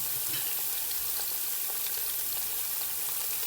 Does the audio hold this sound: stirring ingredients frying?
yes